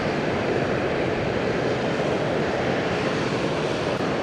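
A Hong Kong Express airliner taxies at Fukuoka Airport, a steady broad engine roar that stays loud and even throughout without any voices.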